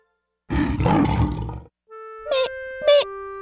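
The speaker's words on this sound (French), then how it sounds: "C'est un lion!" A lion's roar at an animal fair in a Fisher-Price children's cartoon: one loud, rough, close roar lasting about a second, followed by bright, tinkly toy chime notes.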